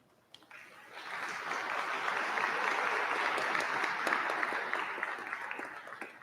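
Sustained crowd applause at the University of Maine at Presque Isle's 113th commencement, swelling from quiet to a dense, steady wash of many hands clapping for several seconds before easing slightly.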